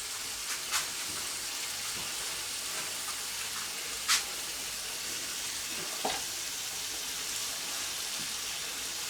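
Onions frying in a pan for homemade meat and potato pies, a steady soft sizzle that hisses continuously, with a few faint clicks and stirring taps.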